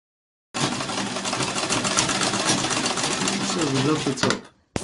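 A sewing machine runs steadily for about four seconds, joining a blouse side seam, a dense close mechanical whir with rapid needle rhythm that stops abruptly.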